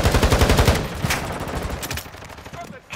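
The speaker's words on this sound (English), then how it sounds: "They're shooting at me." Rapid bursts of automatic gunfire from a Call of Duty: Modern Warfare II match crackle loudly at first, then thin into scattered, more distant shots.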